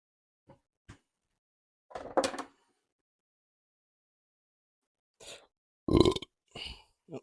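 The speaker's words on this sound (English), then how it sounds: "That probably doesn't sound very good considering it's like pretty much a POV burp." Close, first-person burps in a home kitchen while making soft pretzels: a few short croaky belches in separate bursts with quiet gaps between them, loud and near the microphone.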